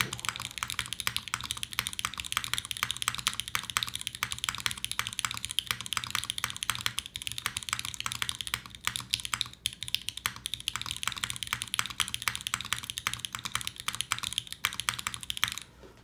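Rapid continuous typing on a custom gasket-mount mechanical keyboard with a Code Geass theme, dense close clacks running steadily with no speech.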